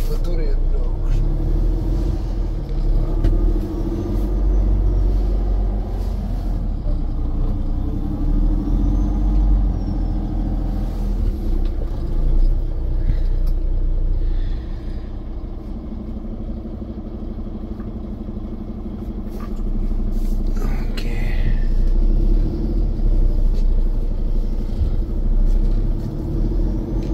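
A car drives along with a continuous low engine and road rumble that eases briefly midway and then returns. A person talks over it throughout.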